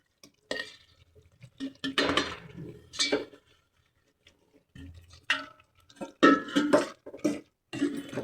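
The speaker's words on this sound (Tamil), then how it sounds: "தேங்காய் பூ போட்டு கொஞ்சம் நேரம் கிண்டிட்டு" Grated coconut is stirred into sugar syrup in a pan for coconut burfi, producing sparse, separate scraping and clinking strokes of a spoon against the pan, close and quiet, with silent gaps between bursts.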